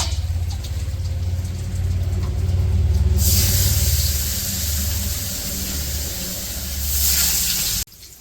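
Fish fries in hot oil in a village kitchen, a loud continuous spattering hiss that swells into bright bursts of sizzling before cutting off abruptly near the end, over a low rumbling hum.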